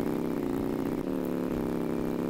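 A two-stroke moped engine idles in the Roblox game Welcome to Bloxburg, giving a steady, loud, buzzy drone that runs unbroken for the whole stretch with no voices.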